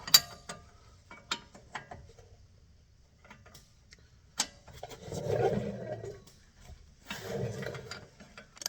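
Wrench loosening a lower ball joint nut on a 2015 Chevy Silverado 1500, scattered metallic clicks and taps followed by a couple of rough grinding bursts, close and alone without speech.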